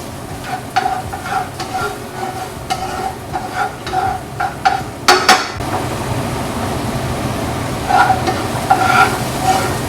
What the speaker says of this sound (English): So with garlic and onion, you're cooking it on kind of a high heat, but you don't want to burn it.